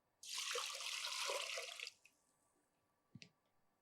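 Water pours into a pressure cooker in one close, steady splashing stream lasting under two seconds, followed by a couple of faint drips and a brief metallic clink.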